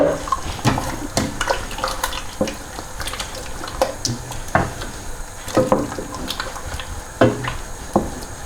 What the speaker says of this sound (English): the rest of the beef stock goes in